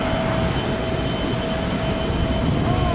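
A steady, loud roar of a Northwind airliner's jet engine at an airport, with a faint high whine, continuous and unchanging throughout, heard up close.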